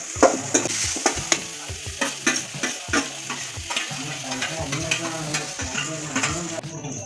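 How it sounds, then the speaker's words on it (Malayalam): Chopped green chillies, curry leaves and onions are stirred in hot sunflower oil in a pan, giving a close, continuous sizzle broken by repeated scraping and clinking strokes of the spoon. "ഈ അരിഞ്ഞു വെച്ച പച്ചമുളകും കറിവേപ്പിലയും ചെറിയ വലിയ ഉള്ളിയും കൂടെ നമ്മൾ ഇതിൽ മിക്സ് ചെയ്യുകയാണ്"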